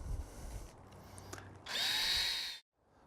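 A power drill drives Phillips screws during a Bestop Trektop soft-top install on a four-door Jeep JK Unlimited, a short high whine lasting about a second after a few faint clicks, then cutting off abruptly.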